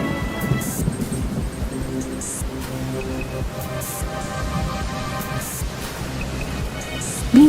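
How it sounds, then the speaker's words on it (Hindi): Heavy rain pours steadily with a low rumble of thunder rolling underneath, a dense continuous storm wash from start to finish. "तभी तेज बारिश और तूफान आ गया।"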